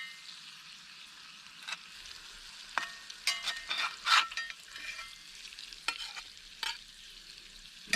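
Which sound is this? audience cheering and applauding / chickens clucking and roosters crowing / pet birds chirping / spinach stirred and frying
spinach stirred and frying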